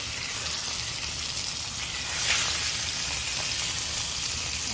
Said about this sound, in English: Cook on the other side. Get a nice browning on the other side.